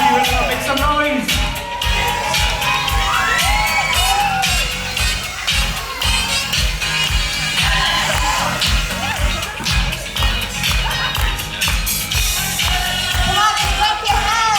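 A large crowd at a 20th anniversary celebration cheers and shouts continuously and loudly, with a steady rhythmic beat of music pulsing underneath throughout.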